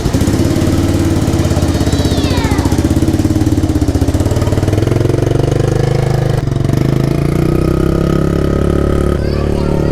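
Small 1982 Honda 110 motorcycle, a restored vintage restomod, running steadily with a loud, close, buzzy single-cylinder drone that holds throughout and briefly shifts in pitch, with voices faintly under it.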